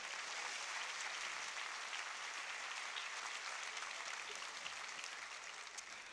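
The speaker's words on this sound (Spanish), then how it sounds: "denle un aplauso al Señor" A church congregation claps steadily in praise, with an even, continuous wash of applause that stays at a moderate distance and never stops or swells sharply.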